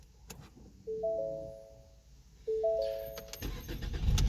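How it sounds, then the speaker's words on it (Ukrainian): A car fitted with an LPG gas system chimes twice as the ignition is switched on, then the engine cranks and catches, settling into a low idle rumble near the end. "Заводимо автомобіль."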